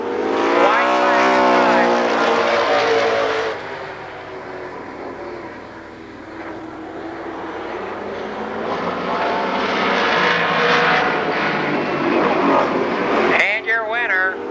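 Race cars howling around the oval at Columbus Motor Speedway in 1996, engines loud and sustained with rising and falling pitch as the pack passes, an announcer talking over the roar throughout.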